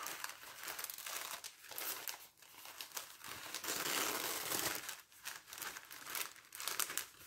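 Gift wrapping paper crinkles and rips in repeated bursts, a busy rustling of wrapping being torn apart up close at a party, with no talking over it.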